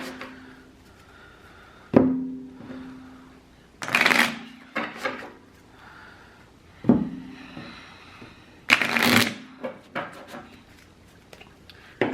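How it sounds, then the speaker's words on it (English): A deck of playing cards gets shuffled at a game table in several separate bursts of riffling and bridging, each a short sharp flutter followed by soft taps and clacks of the cards being squared. "Let me shuffle a couple times here."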